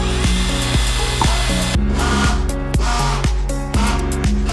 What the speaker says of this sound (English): So we have like the crappiest drill you can buy